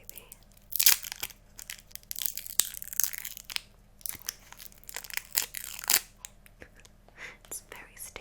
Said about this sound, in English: let's unwrap this baby